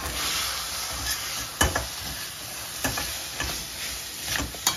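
Chopped vegetables being mixed into a thick besan batter in a bowl, a soft wet squelching and stirring with a few sharper clacks of spoon against the bowl, close and steady, over a faint hiss.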